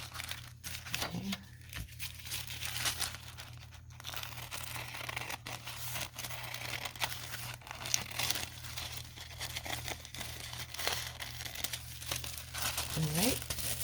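Tissue paper crinkling and rustling under handling during a decoupage craft with vintage book pages, a soft continuous crackle close to the microphone, with a faint steady hum and no talk.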